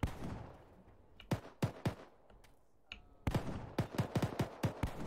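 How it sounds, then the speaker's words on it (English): A rifle fires at a wall in ARMA 3, sharp distinct gunshots that come in irregular pairs and then a faster run of about eight reports near the end, heard alone with no talk. "that one pot shot was me shooting at the wall behind Gushy"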